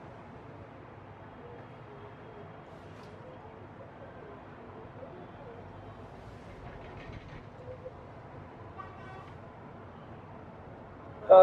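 An aerial tramway cable car rides over Tbilisi, Georgia, giving a low, steady rumble with faint mechanical clicks and creaks throughout and a brief knock at the end.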